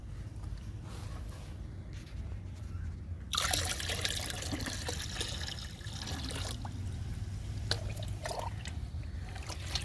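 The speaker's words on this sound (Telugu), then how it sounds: "రెండు మొగ్గులు వేస్తున్నానండి వాటర్లో" A thin trickle of liquid fertilizer made from soaked green grass pours into water, starting partway through and continuing steadily with soft splashing at close range.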